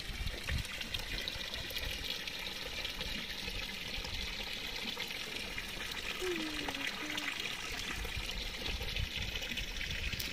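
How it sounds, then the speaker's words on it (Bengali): Continuous flow of river-fed water from a watering system in an orchid garden at Mungpoo, Darjeeling, a steady broadband wash running throughout, with people talking over it. "ये जो वाटरिंग हो रहा है ये सिस्टम भी बहुत अच्छा लगा। ये कंटिन्यू पानी ये कैसे जा रहा है?"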